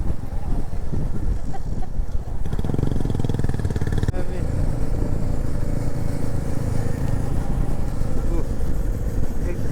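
A Royal Enfield Bullet motorcycle engine runs close and loud on a mountain ride toward Upper Mustang, its thumping rumble rising partway through and continuing steadily.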